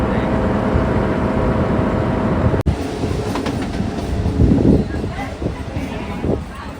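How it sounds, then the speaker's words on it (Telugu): A DEMU express train runs on the line to Nandyal with a loud, continuous rumble and rhythmic clickety-clack of the wagons heard from inside the car, with a sharp click partway through and people talking under the noise. "ట్రైన్ అయితే ఇప్పుడు సిక్కిపోతుంది."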